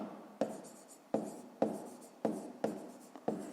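A pen marks an asterisk on paper during a fifth-grade math exercise, heard as a close series of quick, sharp strokes, each starting with a crisp attack and then fading, in an irregular rhythm.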